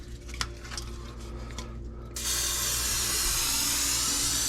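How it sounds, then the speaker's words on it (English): Cooking spray hisses steadily from an aerosol can onto non-stick smoker racks, a continuous close, bright spray that starts abruptly after quiet handling noises and runs on without pause. "Now we're going to spray them with some Pam."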